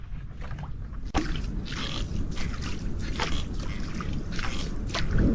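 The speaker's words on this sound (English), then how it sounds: "He begins to row the boat back across the lake." Wooden oars work a boat across a lake, with rhythmic splashes and sloshing water strokes, close by and fairly loud against a steady outdoor background.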